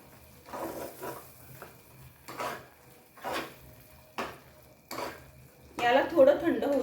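Sweet halwa with dry fruits is stirred in a pan, with repeated rhythmic scraping and clinking strokes of a spoon against metal, close by and moderately loud, plus a denser burst of mixing at the end.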